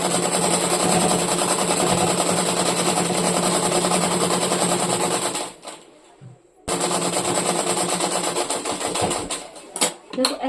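An electric sewing machine stitches a shirt collar with a loud, rapid, steady rattling hum. It stops briefly midway, then resumes at full speed and ends with a few uneven bursts.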